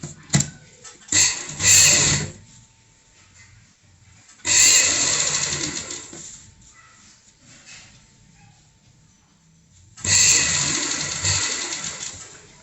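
A sewing machine stitches the frill onto a pillow cover in three separate bursts of a steady mechanical whir, each a couple of seconds long, with quiet pauses between them.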